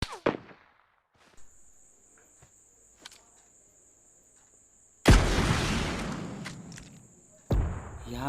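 Sharp bursts of gunfire in PUBG Lite crack out, a couple of isolated shots, then a loud sustained volley followed by another blast, over a faint steady whine.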